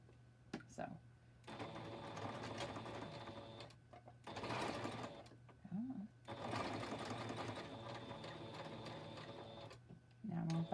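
A sewing machine back stitching over elastic on a headband, running in several steady mechanical bursts with short pauses between them, with a voice talking quietly in the gaps.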